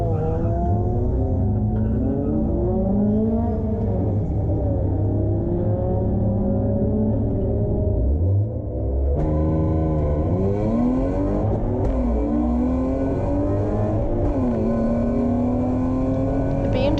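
A BMW E36 race car launches off the start line at Hampton Downs, its engine loud and close as it climbs through the revs, drops briefly on a gear change, then pulls hard again through further shifts.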